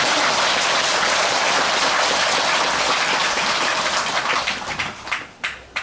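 A crowd at a Buddhist temple dharma service at Gilsangsa applauds the head monk, a loud, dense wash of clapping that thins near the end into a few scattered, separate claps.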